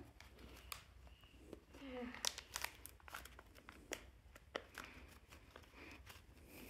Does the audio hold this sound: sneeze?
no